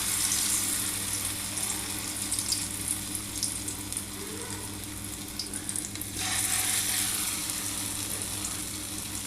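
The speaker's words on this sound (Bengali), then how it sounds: "আমি একটু বড় বড় করে ভেজে নিচ্ছি।" Fritters of white sesame and poppy seed paste frying in hot oil give a steady, close sizzle throughout, with a brief stirring or water sound near the middle and no talking.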